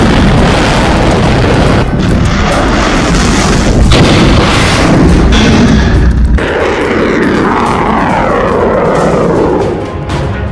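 Kalibr cruise missile strike in the Russia-Ukraine war, a very loud, sustained barrage of booming blasts and roaring rumble with sharp cracks, dense and unbroken throughout.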